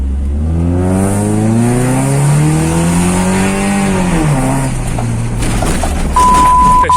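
A Honda car's engine revs hard while driving. Its pitch climbs steadily over several seconds, peaks, then drops sharply as the throttle eases, loud and close throughout.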